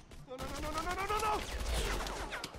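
Bursts of gunfire crackle in a rapid fusillade within the video game Tales from the Borderlands, layered under a shouting voice and game effects, with a low rumbling impact toward the end.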